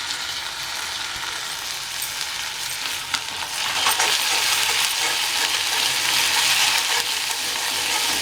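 Ginger garlic paste sautéing in oil with curry leaves in a kadai: a continuous close sizzle with scraping stir strokes, growing a little louder partway through.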